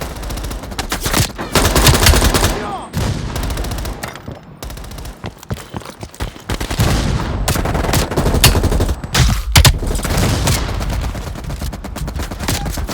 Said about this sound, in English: Mel, you're gonna have to flank that MG.